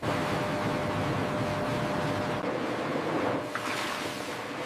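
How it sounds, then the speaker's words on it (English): Powerful water jets blast soil off cassava stems in a factory, a loud, steady rushing spray that roars without letup and fades slightly near the end. "Powerful water jets remove the soil from every cassava stem."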